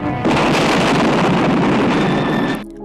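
A fortress explodes in an action film scene, a dense, roaring blast of noise that sustains for over two seconds with crackling debris before cutting off abruptly.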